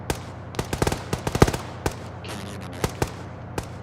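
Gunfire in a military-themed video game, with sharp individual shots and short bursts crackling irregularly at close range, a few loud rapid clusters in the middle and scattered single reports toward the end.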